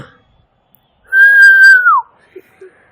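One clear, sustained whistle holds a steady pitch for about a second, then slides downward and stops, with near silence around it.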